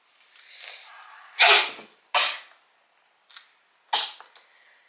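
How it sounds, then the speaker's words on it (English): Several sharp sneezes burst out close up, each a loud explosive puff with breathy lead-ins between, spaced irregularly across a few seconds. "Hold on, I'm gonna sneeze."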